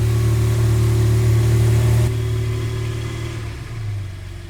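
A Porsche fitted with a Soul Performance valved GT4 exhaust drones loudly and steadily on a cold start, then drops abruptly to a softer, lower idle partway through that settles and dips again near the end.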